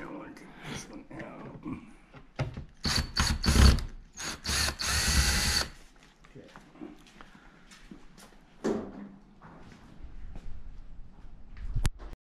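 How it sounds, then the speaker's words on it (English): Screws on a C7 Corvette aero spoiler being snugged up by hand, with short ratcheting and clicking bursts close by, a louder mechanical stretch in the middle, and people talking over it. "he's now snugging up these screws"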